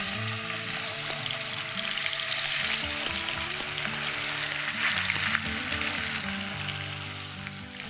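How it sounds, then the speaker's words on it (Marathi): Pieces of rohu fish frying in hot oil in a pan, a steady close sizzle and crackle with faint clinks, no talking. "मी आता फिश त्यामध्ये थोडे फ्राय करून घेणार आहे।"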